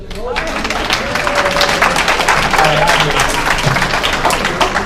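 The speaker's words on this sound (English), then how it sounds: "If you clap hard enough," An audience at a college soccer showcase information session claps loudly and steadily, a dense continuous wash of hands close to the microphone, with some crowd murmur mixed in.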